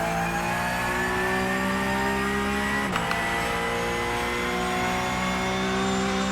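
A racing car engine in a sim racing game revs steadily on throttle, its rising harmonic whine loud and continuous, with a brief gear-change dip midway.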